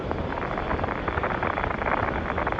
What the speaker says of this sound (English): Each of the 5 S1C engines gulping 3 tons of fuel per second.